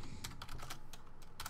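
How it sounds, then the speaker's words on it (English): Rapid computer keyboard typing, clustered bursts of key clicks close up over steady background noise, during an online Chair League match broadcast. "busy typing"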